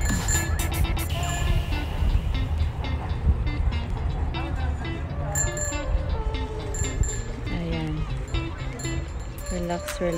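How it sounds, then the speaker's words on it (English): A train rumbles steadily nearby with low mechanical clatter and squeals, while people talk over the noise. "Train."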